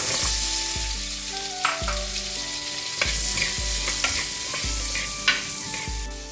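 Small onions sauté in oil in a pan for a mackerel fish curry, giving a steady close sizzle broken by periodic spatula scrapes and stirs, with a low tonal background and no talk.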